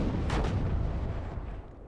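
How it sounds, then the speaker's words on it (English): Tank cannon fire in the real-time strategy game WARNO, a deep, dense rumbling boom that rolls on and slowly fades, loud and close, with no voices. "Then we have two tanks duking it out right now."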